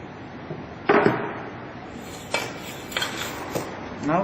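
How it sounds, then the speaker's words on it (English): A steel tamping rod strikes sand packed in a metal container during a bulk density test, giving a few separate sharp knocks at irregular intervals over a quiet background. "Now again do compaction for 25 times by using this tamping rod."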